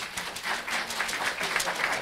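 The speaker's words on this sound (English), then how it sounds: "let's give you a round of applause." An audience at an academic conference panel gives brief applause for David, a soft, steady patter of clapping throughout.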